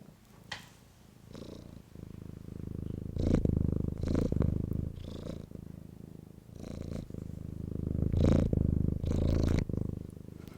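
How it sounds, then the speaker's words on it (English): A cat purrs close up in a low, rumbling rhythm, each breath swelling and fading over several cycles. "Show them your purring."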